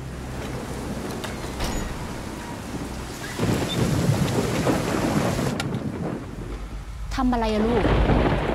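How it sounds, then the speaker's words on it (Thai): Heavy rain and wind roar steadily through a stormy night, with rumbling swells of thunder building in loudness. A voice and other brief speech cut through near the end. "그날 밤이 되자 그들의 방문을 반기지 않는 것처럼 매섭게 폭풍우가 치기 시작합니다"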